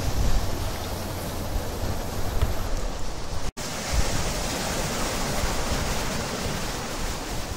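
Steady roar of surf breaking on a beach as the tide comes in on a blowy, mild day, a dense continuous wash of water noise filling the scene with no voices.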